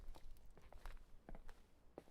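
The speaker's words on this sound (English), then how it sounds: "I love the sounds of the footsteps." Footsteps in The Suicide of Rachel Foster while walking through a hotel: a steady rhythm of about eight soft, hard-floored steps, fairly quiet and heard alone.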